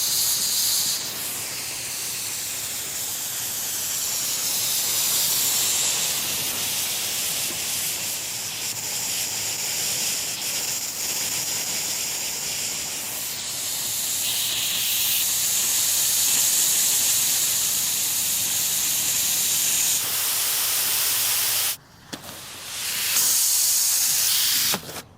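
Compressed air rushes out of car wash sprinkler lines as a steady, loud hiss that holds for about twenty seconds, briefly cuts out, then resumes.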